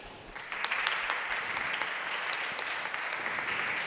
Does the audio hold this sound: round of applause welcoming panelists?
yes